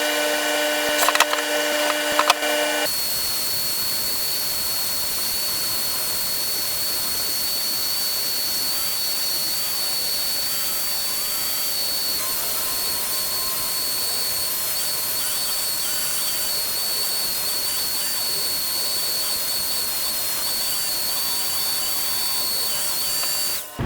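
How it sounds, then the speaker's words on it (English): A Dremel rotary tool cleans up the edges of wooden pieces for a vintage-style book holder stand, giving a continuous high-pitched whine with a steady, grinding hum that runs close and loud for about twenty seconds. "I'm going to use the dremel and clean up the edges and try to get up to the lines"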